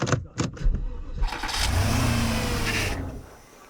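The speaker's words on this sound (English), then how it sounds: "gentlemen, I want you to start your engines" Car engines of a BMW and a Porsche, oil drained, cranking and catching, then revving loudly in a sustained roar for over a second before cutting off; a few short bursts precede it.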